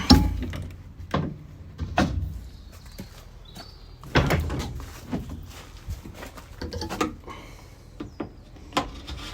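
Rear doors of a 2015 Land Rover Defender 130 2.2 open with several clunks, latch clicks and knocks spread irregularly, close by, with quieter rustling between the sharper impacts.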